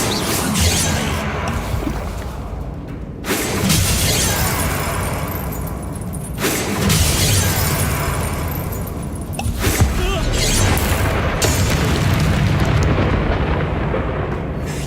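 Fiery blasts from the Incendio spell in the Hogwarts Legacy video game, several loud, broad bursts and crackling roars at about three-second intervals, each flaring and then trailing into sustained rumbling noise, close and dense throughout.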